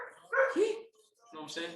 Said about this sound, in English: That's my dog bark.